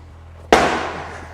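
A heavy object is slammed down hard from overhead during an upper-body workout: one sudden, loud, close crack with a ringing decay, over faint background hum and no talking.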